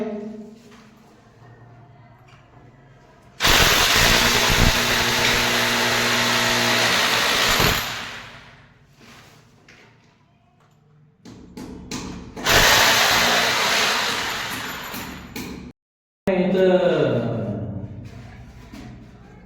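A power drill bores into a wall during house wiring work, running loud in two long bursts of several seconds each, with quieter gaps between them.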